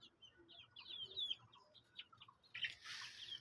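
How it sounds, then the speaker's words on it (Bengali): Small caged quail in a homemade backyard coop, thin high chirps and short calls coming in a quick run, faint and close, ending in a brief rustling flurry. "কোয়েল পাখি"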